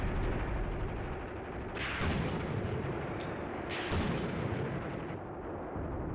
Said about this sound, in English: Machine gun's obviously opening up now.